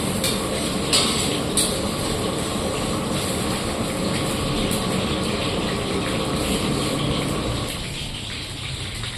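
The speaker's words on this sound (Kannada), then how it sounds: "ಇವಾಗ ನೋಡಿ ಆಯಿಲ್ ಫ್ರೈ ಮಾಡ್ಕೊಂತ ಇದ್ದೀನಿ" Urad dal frying in oil on a low flame, a steady, dense hiss and bubble close by that thins out near the end, with no talk.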